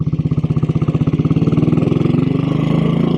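A 1957 Royal Enfield Bullet 500 in excellent condition thumps along on the road, its single cylinder beating loud and close in a rapid, even pulse that quickens slightly as it pulls.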